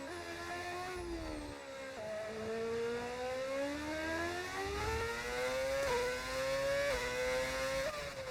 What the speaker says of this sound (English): Do you have a sound mod? Yes. We're using V8 engines.